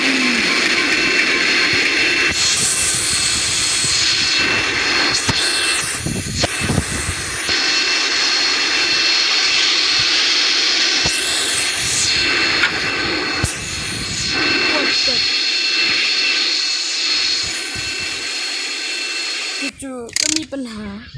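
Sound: airplane crashing down in a video game

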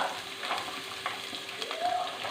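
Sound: chopped onion frying in a pan

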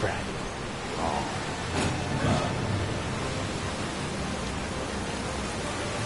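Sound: rain in video game Dynasty Warriors 9

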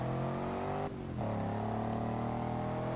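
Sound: Range Rover Supercharged with F-Type engine, Forza Motorsport 6 video game

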